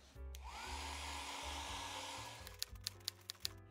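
An electric hair dryer blows steadily at close range over a watercolour painting, a continuous whirring hiss that holds throughout, with a few sharp clicks near the end.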